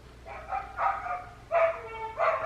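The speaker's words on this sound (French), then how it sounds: "j'ai le chien des voisins, dès qu'ils s'en vont, il gueule comme ça là" A neighbours' dog barks at home, four loud bark bursts in an uneven rhythm, fairly close, with no talking over them.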